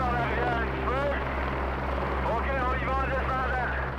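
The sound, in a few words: helicopter carrying a slung load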